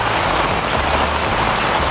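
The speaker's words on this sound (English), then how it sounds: "Guess what? It's raining." Rain pours down in a rainforest, a dense, loud, unbroken patter of drops hitting surfaces close by, with no voices.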